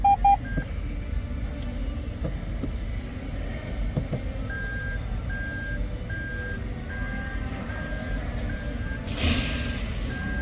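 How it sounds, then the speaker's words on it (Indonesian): Reverse gear warning chime inside a Toyota Raize A250 1.0 turbo GR Sport CVT, a short beep at the start then a steady run of evenly spaced electronic beeps over a low cabin hum. "Ini reverse chime-nya."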